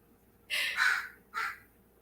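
Crows caw twice outdoors, a long harsh call followed by a shorter one, loud and fairly close against a quiet background.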